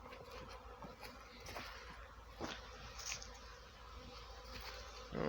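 Bees hum at an apiary on a sunny early-March day, a faint, steady buzzing drone with occasional louder passes of single insects nearby, no voices.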